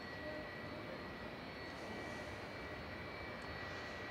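The Scottish Rocket airliner taxis at Manchester Airport, a continuous faint engine rumble and hiss that holds steady throughout with no voices.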